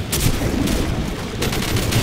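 Gunfire in the video game Call of Duty, a dense run of rapid shots crackling steadily through the whole stretch, with a brief lull before a fresh burst near the end; no talk over it.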